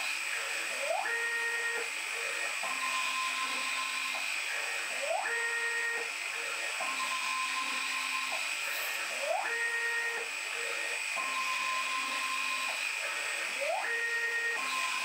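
An Arduino-controlled lathe leadscrew drives an automatic thread-cutting pass with a second axis, giving a steady whine with repeating rising and stepped motor tones that cycle every few seconds, with no talk.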